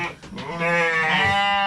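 A goat on a farm gives one long, wavering nasal bleat, loud and close, with a short scuffle just before it.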